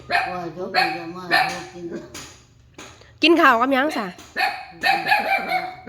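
A dog barks and yelps loudly in several bursts, with one longer wavering whine, mixed in with people talking close by.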